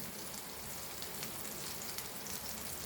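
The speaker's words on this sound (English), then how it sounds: "Fry it crispy. Okay, make it on low flame, otherwise the semolina will get" King fish pieces coated in semolina frying in oil on a low flame, a steady soft sizzle and crackle with faint popping, quiet and even throughout.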